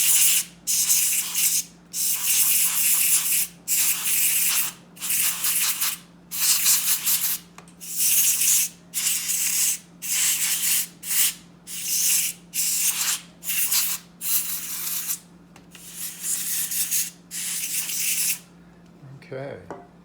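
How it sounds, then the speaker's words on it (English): A can of compressed air blasts dust out of a Nest Protect Gen 2 smoke alarm in about fifteen short, loud, hissing bursts with brief pauses, over a steady low electrical hum that continues throughout. "I'm going to take my can of compressed air and I'm just going to blow it around this."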